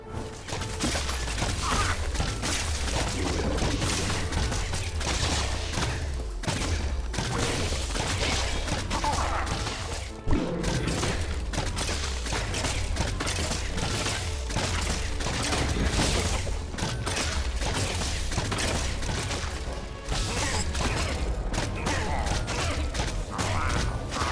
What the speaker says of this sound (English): We'll leave you with a small montage of footage so you can see the baby crossbows in action.